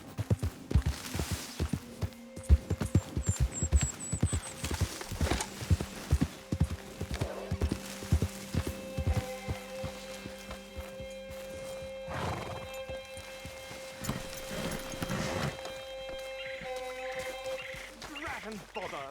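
Hooves pound in a fast galloping clip-clop in Red Dead Redemption 2, loud and close at first, then easing off while a horse whinnies and snorts, with voices speaking over the later part.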